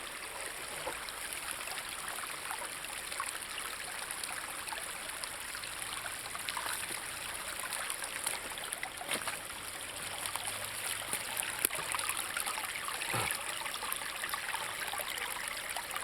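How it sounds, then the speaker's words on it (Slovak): A mountain stream runs downhill in a steady, close broadband rush with bright trickling detail, constant throughout with no voices. "odtiaľto steká voda, odtiaľto sa všetko valí a je to dole"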